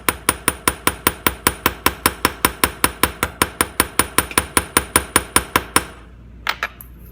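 A hammer strikes metal letter stamps on brass in a fast, steady run of about thirty evenly spaced, close, ringing taps, then stops, leaving a couple of faint knocks.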